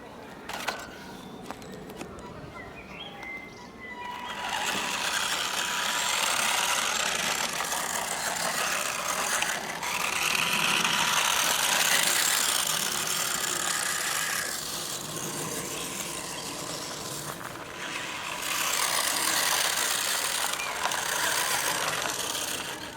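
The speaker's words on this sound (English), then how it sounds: "This is my second attempt at driving it in the park." A vintage Tamiya Holiday Buggy RC car drives in a park, its small motor and gears whining and buzzing at varying pitch in long surges, with brief lulls and faint outdoor background.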